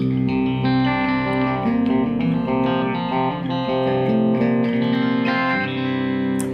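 A thick, overdriven electric guitar plays sustained chords through an ENGL Savage 120-watt amp head with the mids boosted, giving a full, midrange-heavy tone, loud and steady with no voices.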